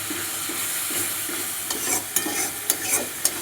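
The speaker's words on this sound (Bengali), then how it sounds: "মশলাটাকে পোড়াবো না, ভালো করে কষিয়ে নিয়ে তরকাটাকে দিয়ে দেবো সেদ্ধ করে রাখা" Spice masala and vegetables sautéing in a pan, a steady close sizzle with a spoon scraping and stirring in repeated strokes, sharper clinks near the end, no talking.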